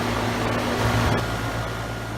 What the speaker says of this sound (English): Here's the unit running from another perspective here after it's been on for a while.